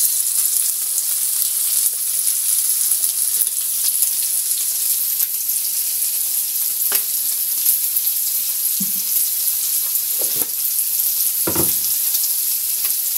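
Pork igado sizzles and fries in a pan as it is stirred, a steady hiss of hot oil broken by a few scraping utensil knocks near the end.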